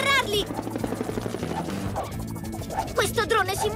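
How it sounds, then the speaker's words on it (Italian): A cartoon drone in a PAW Patrol episode gives off a continuous helicopter-like buzzing hum under upbeat music and excited character speech. "Questo drone si muove troppo!"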